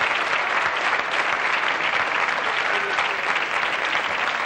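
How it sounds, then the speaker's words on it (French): A TV studio audience at a 1991 French variety show applauds steadily, a dense, even wash of clapping held at a constant level for several seconds with no voices over it. "Vous pouvez vous applaudir"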